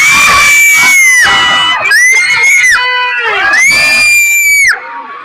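A live crowd at a Damayan gathering shouts and cheers loudly, with high, sustained voices rising and falling in waves for several seconds before dropping off near the end.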